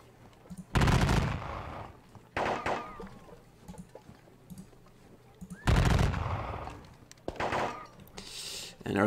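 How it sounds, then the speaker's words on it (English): Musket fire from soldiers in the Napoleonic Battles Leipzig game: bursts of crackling volleys and booming shots come in irregular clusters, loud and close, with quieter rumbling gaps between them. "we have our soldiers here just laying down musket fire as the enemy is closing in"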